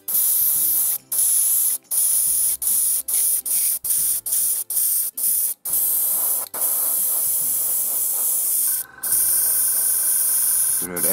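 A small airbrush sprays paint over a marble-effect model base wrapped in a wet wipe, loud and close, in a steady hiss broken by many short bursts and pauses of varying length.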